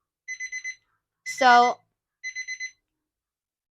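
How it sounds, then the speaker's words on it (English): A super loud alarm clock with a bed shaker sounds its buzzer in two bursts of four rapid, piercing beeps, separated by a brief spoken word. "this super loud alarm clock will makes it easier for you to wake up from a deep sleep"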